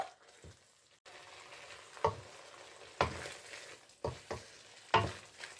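Curry paste with fried onion and garlic sizzles quietly in oil for a fish tamarind curry, with a low steady fizz broken by several sharp stirring scrapes and clinks close by.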